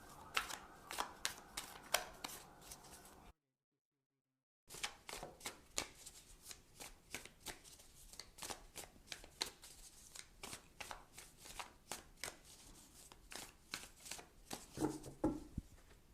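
Oracle cards shuffled by hand during a tarot reading, a quiet close series of crisp riffling flicks and taps with a short silent gap midway.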